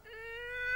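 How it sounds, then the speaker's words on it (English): A wolf character in a cartoon attempts a cat-like meow: one short, thin, rising tonal cry with steady harmonics, growing slightly louder toward the end, heard alone without talk. "Are you trying to meow?"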